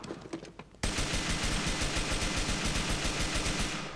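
Rapid automatic gunfire in Grand Theft Auto IV erupts suddenly after a few scattered shots, a loud, steady, fast-rhythm fusillade that continues without a break.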